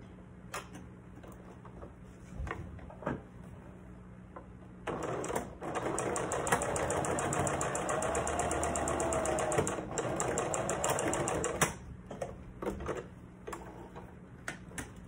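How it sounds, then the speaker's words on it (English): A home sewing machine runs a seam about a quarter inch from the edge of a cloth face covering, giving a steady rapid mechanical whir and tick that starts after brief handling noises, runs for roughly seven seconds, then stops. "And I'm gonna do this with my sewing machine again."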